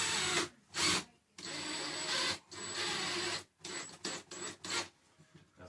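A power driver with a Phillips head sinks screws into a wall stud during a solar battery bank installation. It makes repeated whirring bursts of varying length separated by short pauses, close and fairly loud.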